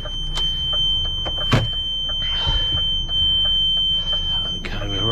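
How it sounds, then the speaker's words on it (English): A steady high warning tone sounds continuously in the cab of a heavy recovery lorry on a UK motorway, over low engine rumble and a few clunks. "lovely buzzer"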